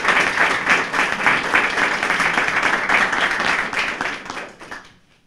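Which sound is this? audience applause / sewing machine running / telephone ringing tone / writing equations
audience applause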